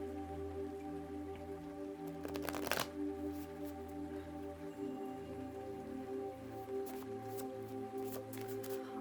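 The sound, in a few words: shuffling homemade tarot card deck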